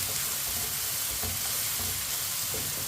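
Onions cooking in a pan for a simple onion sabzi. A continuous, close sizzle holds at an even level for a few seconds, with no talk.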